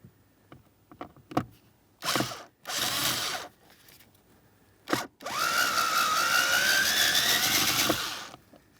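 A power drill backs out the screws holding the front HVAC blower motor assembly of a 2008-2016 Chrysler Town & Country: short whirring bursts, then a long steady whine, close, with clicks and handling in between.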